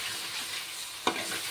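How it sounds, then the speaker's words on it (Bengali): Potatoes and tomatoes frying in a pan for a rohu fish curry, with a steady soft sizzle and one brief scrape of a spoon stirring partway through. "ঢাকা তুলে দিয়েছি, এবার একটু নেড়ে চেড়ে দেবো।"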